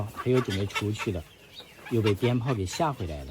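A neighbour's hen clucks in short repeated bursts near a rural vegetable patch, interleaved with someone talking over it.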